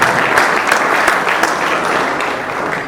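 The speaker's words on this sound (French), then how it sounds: "Si on peut encore applaudir" Audience applause at an M23 press conference in Goma, a dense steady wash of many hands clapping, loud and close, sustained with no speech over it.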